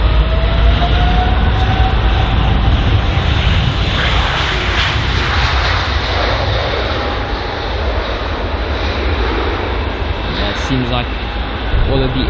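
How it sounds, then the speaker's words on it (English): Aircraft at London Heathrow taxi toward runway 27 right, a loud, continuous broadband engine roar that stays steady throughout with slight fluctuations. "You see there these two aircraft just heading for runway 27 right"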